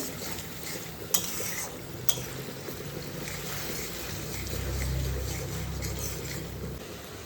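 Chicken being stir-fried in a pan after half-cooking, with a steady sizzling hiss, scraping stirs and two sharp utensil clinks against the pan, the frying swelling louder near the end.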